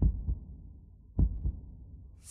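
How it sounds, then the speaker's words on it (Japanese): Heartbeat sound effect in a Japanese drama CD: deep, close thumping beats in lub-dub pairs, two slow cycles, loud and isolated, ending as a brighter sound begins. "心臓の音がドキドキうるさい"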